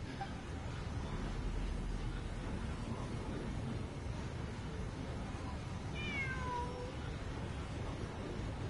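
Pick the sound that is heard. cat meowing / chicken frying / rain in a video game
cat meowing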